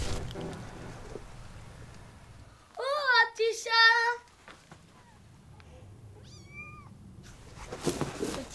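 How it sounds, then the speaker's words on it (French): A small cat meows several times up close, a cluster of drawn-out cries in the middle and a shorter one after, against a quiet, slightly noisy background. "petit chat"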